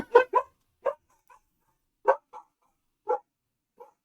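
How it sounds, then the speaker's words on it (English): Dogs bark in a game world, sharp separate barks and yips spaced out over several seconds and heard alone, moderately close and loud. "I was going to say, I think I hear some dogs."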